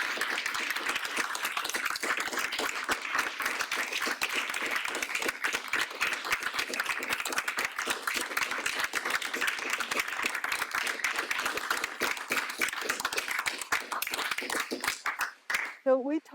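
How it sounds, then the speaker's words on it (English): A panel discussion audience claps loudly in sustained applause that fills most of the stretch, then thins out and fades near the end. "get you all to clap very loudly"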